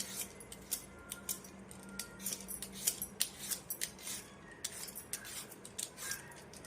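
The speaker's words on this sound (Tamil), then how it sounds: "அடுத்தது வந்து சாம்பாருக்கு தேவையான காய் கட் பண்ணிக்கலாம்." Vegetables for sambar being cut in a home kitchen, with a run of crisp, irregular knife clicks and chops, faint and close.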